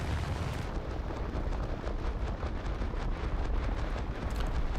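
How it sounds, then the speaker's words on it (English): Torpedo striking a ship in a naval video game, a sustained, loud roaring explosion with heavy low rumble and crackling debris filling the whole stretch, no talk over it. "I am actually kind of curious how this torpedo exactly hit him"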